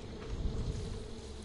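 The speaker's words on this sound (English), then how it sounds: "Stupid bees." A continuous low insect buzz from a swarm of bees in the game Far Cry 5, steady and close for the whole moment with no other sounds on top.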